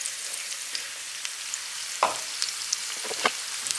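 Onions fry in a pan with salt in a steady, even sizzle, with a few faint stirring scrapes and small pops over the constant hiss, close and without talk.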